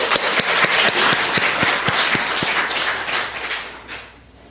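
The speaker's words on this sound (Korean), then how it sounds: "우리 영광의 박수 올려드립니다" A church congregation applauds the choir after its hymn, a full burst of crowd clapping with a few sharp, close individual claps standing out, gradually thinning toward the end.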